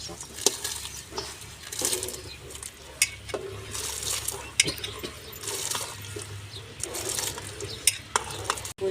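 Soaked sago goes into boiling water in a pot and gets stirred, giving bubbling, sloshing and repeated spoon scrapes and clinks at close range.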